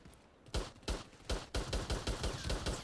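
Gunfire in the shooter game Warface: after a quiet half-second, loud, close shots crack out in an uneven string, spacing tightening into a rapid burst toward the end, with no talk over them.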